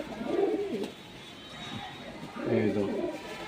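Pigeons coo in a loft during a show of a top-quality breeding pair, two soft throaty bursts near the start and end with quieter gaps between, heard under someone talking.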